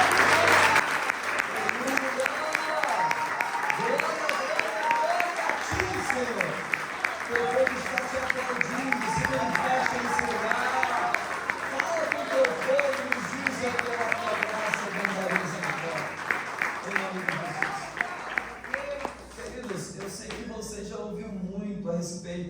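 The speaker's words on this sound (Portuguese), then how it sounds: "desocupa as tuas mãos e dê a melhor salva de palmas para a palavra" A church congregation applauding during a sermon, sustained clapping heard under a preacher's voice speaking, gradually thinning toward the end.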